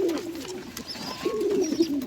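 A pigeon cooing at its nest holding eggs and chicks, low throaty coos repeating close by with a faint chirp in the background.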